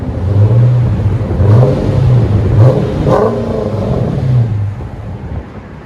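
A 2009 Dodge Challenger R/T with a 5.7L HEMI V8 and Flowmaster FX dual exhaust revs up close and loud, its deep exhaust note rising and falling through several throttle blips over a rumbling idle.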